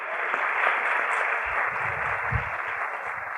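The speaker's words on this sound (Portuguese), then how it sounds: "Dezenas de pessoas na plateia aplaudem o convidado." Crowd of audience members applauding a guest at a talk show event, a continuous wash of clapping with some low thumps and movement underneath.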